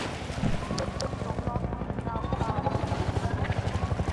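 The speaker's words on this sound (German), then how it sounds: "Helikopter. Junge! Warum kommt denn der so nah, ey?" Helicopter flying close overhead in Half-Life 2, a loud, steady rhythmic rotor chop pulsing throughout alongside game noise.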